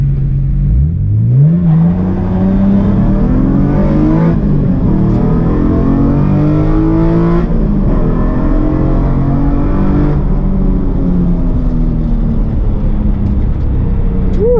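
Nissan 350Z sports car accelerating hard in a drag race, engine revving loud and steady with rising pitch through gear changes, a second 350Z alongside, continuous close roar throughout.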